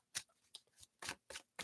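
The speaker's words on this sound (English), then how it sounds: "All right, 2 shuffles, Aquarius." Tarot cards are shuffled by hand in quick riffling bursts, about five crisp, close papery flicks in under two seconds.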